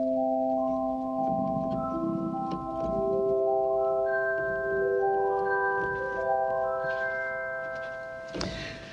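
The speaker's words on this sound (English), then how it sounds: "one of them is called a harp, and this is what it sounds like." Plucked, harp-like tones from a pipe organ's harp stop ring out one after another in a rising sequence, each note sustaining and overlapping the last, ending with a soft thump.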